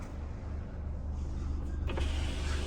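A low electric motor hums steadily inside a Renault Koleos 2.0 dCi as the panoramic sunroof closes, ending with a soft thunk as the panel shuts, with a faint rumble underneath.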